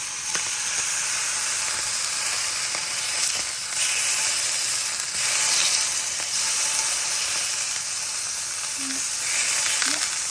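Thin slices of beef tongue sizzling on a hot surface as they cook for tongue yaki, a constant bright hissing sizzle close up, with a faint voice and small clicks now and then.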